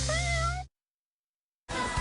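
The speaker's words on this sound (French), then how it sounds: "Dans la famille Furry, je voudrais Moustache mon chat" FurReal toy cat meowing in a TV advert, one sustained electronic meow with a steady tonal pitch over a low background, then silence before a brief burst of advert sound.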